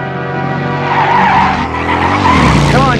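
A cartoon car speeds hard with tires skidding and squealing, a loud continuous engine roar with a rising screech near the end, heard alone without talk.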